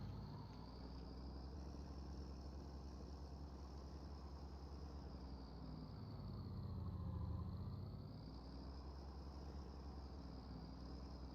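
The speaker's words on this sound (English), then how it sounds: "All right, quick take of the engine sounds." A truck engine idles in Farming Simulator 19, a steady low rumble with a faint whine above it, rising slightly once midway before settling back, with no one talking.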